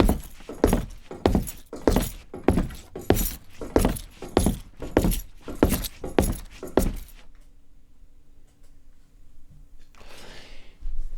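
A bunch of keys worn as a clothing accessory jangles in a steady walking rhythm, about a dozen bright metallic shakes in a row, then falls quiet before one last faint rustle.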